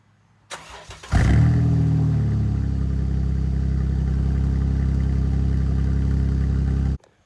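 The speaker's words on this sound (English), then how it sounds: "I'm gonna give her a crank over" A Jeep JK engine cranks briefly, catches and settles into a steady, loud idle close by, running alone without talk until it cuts off abruptly.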